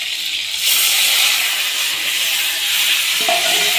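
Chopped tomato hits hot oil with cumin seeds, dry chilli and bay leaf, breaking into a loud, steady hiss and sizzle that rises sharply and keeps going.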